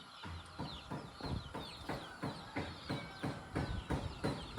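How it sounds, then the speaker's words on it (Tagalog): A large flock of farm chickens clucks busily in repeated overlapping bursts, close and fairly loud, with a rooster-like call mixed in and no talking. "Wow! Ang dami na naming manok."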